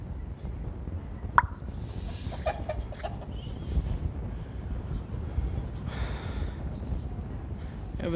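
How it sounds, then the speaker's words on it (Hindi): A Thai cross rooster gives a short crow and some clucks over a steady low rumble of background noise, with a sharp click near the start. "वलैती मुर्गा थाई क्रॉस"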